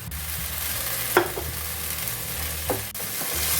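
Coriander cooking in a pan for baingan bharta, giving a soft continuous sizzle with a couple of brief spoon scrapes as it is stirred, and no talking.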